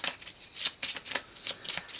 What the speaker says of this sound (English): Then we have our enemy cards. We'll try and mix those up the best we can.